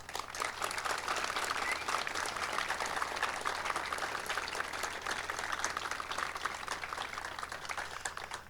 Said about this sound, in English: Can we please have a big round of applause for them?